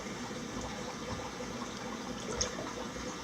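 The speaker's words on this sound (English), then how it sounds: "as you pour the water in, the water will seep through the holes here" Water is poured into a shrimp tank, seeping through holes onto the substrate, giving a soft, steady rushing and trickling without a break.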